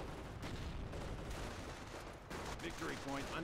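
Sustained rattling machine gun fire in the strategy game Company of Heroes, loud and continuous with dense overlapping bursts and battle noise, with a commentator talking over it.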